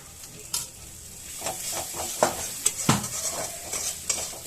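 Spices frying in oil in a pan, a soft sizzle under repeated scraping and clinking of a spoon against the pan, close and fairly quiet.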